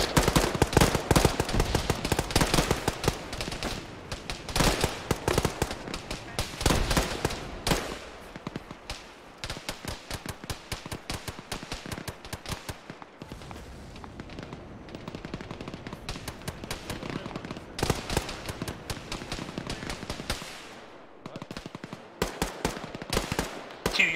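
Video game gunfire in Arma during a ShackTac squad operation: repeated bursts of rapid automatic fire and single shots crackle in dense clusters, some loud and close, others thinner, with brief lulls between volleys.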